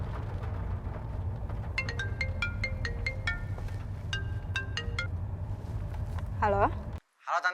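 An incoming-call ringtone on a phone plays a repeating run of bright electronic tones over a low background rumble, loud and near, before cutting off as a voice answers.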